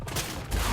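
Gunfire in ARK: Survival Evolved, a short burst of overlapping shots fired at a giant dinosaur, loud and close with no speech.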